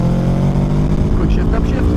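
Aprilia Tuono V4 motorcycle on stock headers running hard through quick-shifted upshifts, a loud, steady engine drone with harmonic tone and brief pitch breaks near the end, heavy wind rush over everything.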